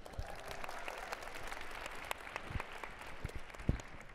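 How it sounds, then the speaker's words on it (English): A packed house in Chicago applauds, a faint, distant wash of clapping with a few sharper individual claps standing out. "Give yourselves a round of applause."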